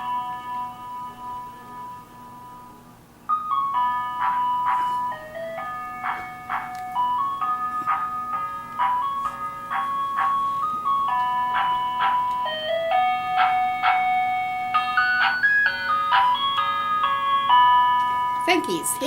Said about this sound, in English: wait for the ice cream truck